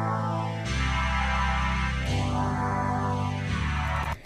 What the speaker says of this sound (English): Nice simple block chords,